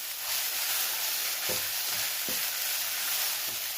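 Poha being stirred by hand with chopped cucumber and salt, a few soft scraping strokes over a steady background hiss, no talking.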